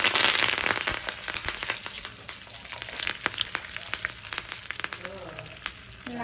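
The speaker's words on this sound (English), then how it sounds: "finally my scariest part would be adding the curry leaves" Curry leaves dropped into hot oil on a turned-off stove for a mixed dal of gongura, chukkakura and ponnaganti, crackling and sizzling loudly at first, then sputtering in scattered pops.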